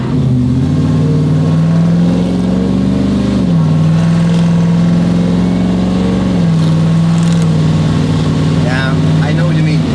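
Holley-equipped big-block American muscle car accelerating hard, a loud, steady, throaty engine drone with slight pitch shifts as it pulls, while people talk over it.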